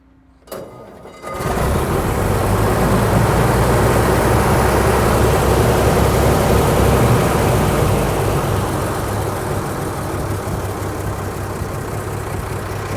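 A 1924 American LaFrance fire engine starts with a brief crank, then settles into a loud, steady low rumbling idle that holds evenly close by, with no talking.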